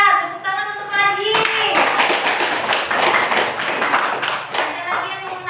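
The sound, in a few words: class applauding, clapping hands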